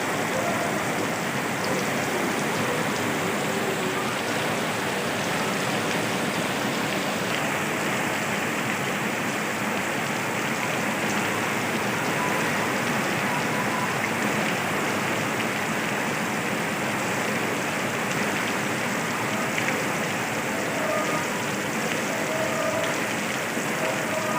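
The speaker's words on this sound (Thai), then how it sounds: "ช่วงนี้ฝนตกครับ" Steady rain falls outdoors as an even, unbroken hiss of drops that holds at the same level the whole time, with no speech over it.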